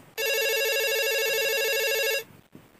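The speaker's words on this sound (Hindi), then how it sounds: "लेते हैं आज की पहली फोन कॉल।" A telephone rings for an incoming call on a radio phone-in program. One continuous electronic ring lasts about two seconds, loud and alone, and then stops abruptly.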